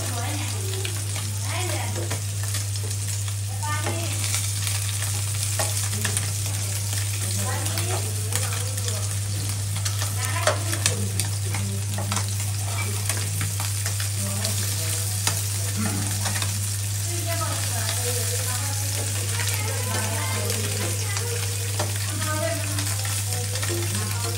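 Fish sizzles as it fries in a pan, a loud, dense, continuous crackle with frequent stirring scrapes, over a steady low hum that runs through the whole stretch.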